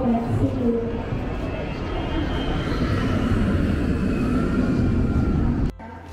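Planes taking off on a Cebu Pacific airport tarmac, a loud, continuous low engine roar dominating close by, cutting off abruptly near the end, with speech mixed in.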